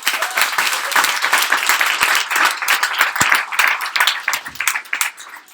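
Participants at a fintech startup weekend in Sydney applaud themselves, a lively burst of crowd clapping with uneven swells that gradually thins toward the end.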